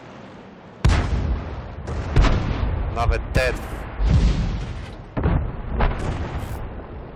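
Tank cannon shots in the game World of Tanks, several sharp, loud booms spaced a second or so apart with rumbling tails, while someone talks between and over them.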